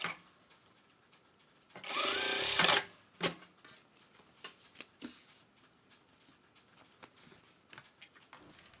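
A sewing machine stitches elastic onto a fabric tarot card case in one short, close, buzzing run of rapid stitches. Scattered clicks and fabric handling sounds follow.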